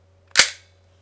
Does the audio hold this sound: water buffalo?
no